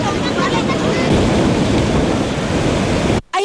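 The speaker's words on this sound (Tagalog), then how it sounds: "Matataas at malalakas pa rin ang hampas ng mga alon sa bayan ng Ternate sa Cavite." Strong, high waves pound the shore at Ternate, Cavite, after severe flooding, a loud continuous roar of surf and wind buffeting that fills everything before cutting out abruptly near the end.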